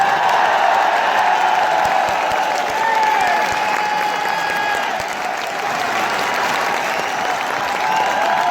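Loud, dense applause from a seminar audience at a networking and MLM talk fills the room without a break, steady throughout.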